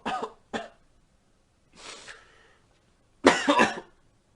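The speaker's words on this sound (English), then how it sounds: "How long have you had that cough?" A person coughs in several short harsh bursts: two quick coughs, a softer breathy one after a pause, then a louder cluster of coughs close to the ear, with no talking.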